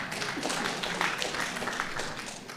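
An audience claps faintly at a candidate forum for US House District 2. The scattered, soft patter runs steadily throughout, sounding distant and low in level.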